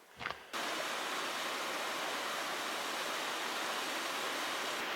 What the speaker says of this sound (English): I am at the waterfall